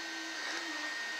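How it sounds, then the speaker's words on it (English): A 3D printer runs while printing Mika3D silk filament, giving a steady whirring motor hum with a faint high tone, continuous and even throughout. "So you can hear the printer going on behind me."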